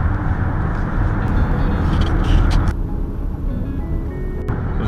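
Inside a 2018 Volkswagen Atlas V6 SEL 4Motion on the drive to work, steady engine and road noise rumbles at a constant level, with a few faint clicks over the drone.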